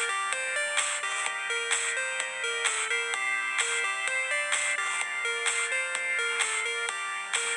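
Big room house synth lead built in NI Massive, a bright, loud stacked melody playing over sustained chords in steady repeating rhythmic phrases with no voices.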